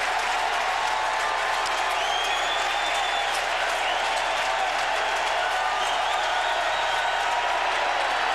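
A college football stadium crowd at a 1999 Clemson vs Virginia game roars and cheers in a sustained, distant wash of noise, steady and broad with faint applause mixed in.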